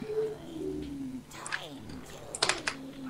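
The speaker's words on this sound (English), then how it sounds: "I used to hate these birds' voices." Birds calling in World of Warcraft: a few soft cooing and chirping calls with bursts of brighter squawks near the end, moderately close, set over a low background hum.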